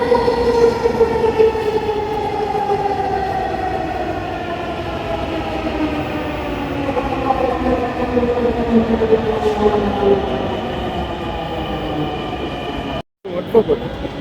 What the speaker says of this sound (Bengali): এই যে ট্রেনটি চলে আসলো